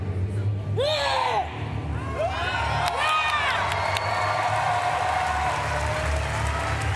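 A Paralympic powerlifting crowd cheers and whoops for a lifter, with loud sustained shouts and rising whistles over a dense roar of voices, continuous throughout.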